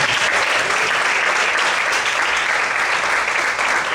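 A church congregation applauding, dense and loud clapping that holds steady and unbroken from start to finish.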